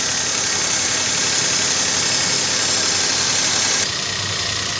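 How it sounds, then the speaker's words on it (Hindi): A car engine runs steadily after an intake manifold air leak repair. A loud, constant drone comes with a bright, high-pitched whine, and the tone drops slightly near the end. No one talks. "अभी सब लगा के मैं इंजन स्टार्ट रखा हूँ, और रेस करके दिखाता हूँ किधर भी सीटी की आवाज़ नहीं आ रहा है"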